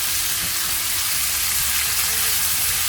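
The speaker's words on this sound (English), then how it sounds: "add 2 large tomatoes, roughly chopped, add salt according to taste, mix everything" Chopped tomatoes and onions are stirred in a hot pan with salt, giving a steady, close sizzle and hiss with faint scraping underneath, continuous throughout with no talking.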